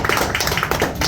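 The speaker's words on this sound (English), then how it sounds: "I want to applaud that. Can you all join me?" Audience applause at a community advocacy gathering: a brief, dense burst of many hands clapping together, steady and close, with no talking over it.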